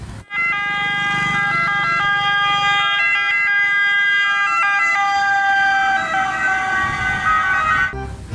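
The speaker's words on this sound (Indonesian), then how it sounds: "Satu lagi ada mobil ambulans." A toy ambulance siren wails loudly and steadily, its electronic two-tone pattern repeating for several seconds before cutting off abruptly.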